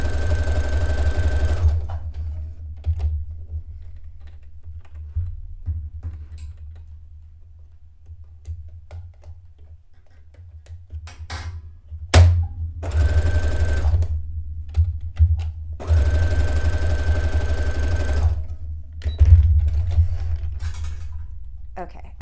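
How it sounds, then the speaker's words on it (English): A sewing machine pre-stitches a guideline along a curved edge of fabric for a wrap dress, running in steady bursts with brief pauses and ticking mechanical clatter, close and loud. "pre-stitch where I want it to follow the curve"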